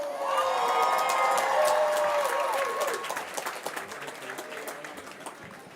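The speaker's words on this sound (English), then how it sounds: "Let's have a very special applause for Dean Crabtree." Commencement crowd at the 2024 LMU undergraduate ceremony applauding a liberal arts college dean, a dense wash of clapping with cheering and whoops that swells loud, then thins toward the end.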